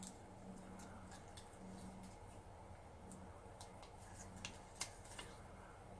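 Scissors cut decor material into strips for a dollar-store fall craft, giving faint, sparse snips and small ticks against a quiet background.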